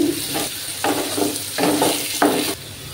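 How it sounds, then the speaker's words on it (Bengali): Potatoes sizzle steadily in a hot pan with turmeric for a ridge gourd and tangra fish curry, broken by several louder bursts as they are stirred. "তার জন্য আলুগুলো একটু ভেজে নেব।"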